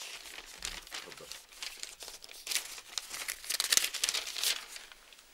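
Papers and a letter are handled close up, giving soft crinkling and rustling in irregular bursts of crumpling, with no talk over it.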